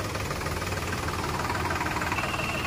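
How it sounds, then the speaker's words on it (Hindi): A tractor's diesel engine runs at a steady, loud, close drone with an even mechanical rumble for a few seconds, and no one speaks. "काफ़ी बढ़िया रेस और काफ़ी अच्छी आवाज़ इस ट्रैक्टर के अंदर आपको मिलने वाली है।"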